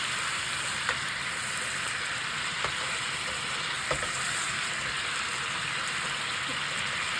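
Japanese-style hamburger steak fries in a pan with a steady, dense sizzle that holds evenly throughout, with a few faint clicks standing out on top.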